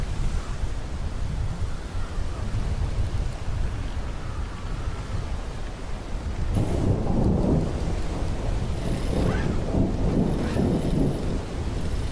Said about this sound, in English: Get ready for the storm.